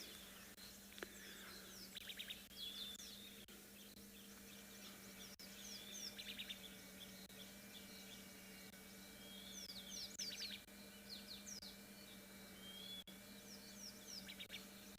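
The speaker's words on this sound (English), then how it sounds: "I can hear so many birds around me." Several birds chirp and trill at a distance, scattered short calls repeating over a low steady background hum, no voices.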